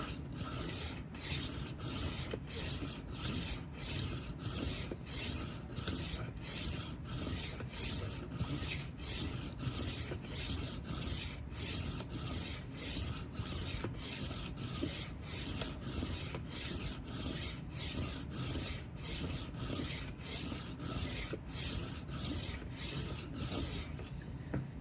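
A 12-inch Henckels chef knife is drawn over a whetstone in steady back-and-forth passes, about twenty strokes in an even raspy rhythm, close and continuous with no talking.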